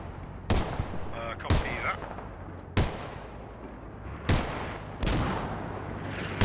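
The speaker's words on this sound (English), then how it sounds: "Mortars trying to zero in on the infantry." Repeated mortar impacts in the Squad military shooter game, with five sharp, booming blasts at irregular intervals over a steady low battlefield rumble, some distant and some closer.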